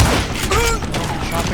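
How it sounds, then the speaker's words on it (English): Gunfire in the Western shooter Call of Juarez: Gunslinger, with a burst of close shots over busy game sound and a voice talking during the clip. "Shot the gun."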